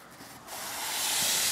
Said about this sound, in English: Make sure you use a nice flat surface so you don't get uneven sanding.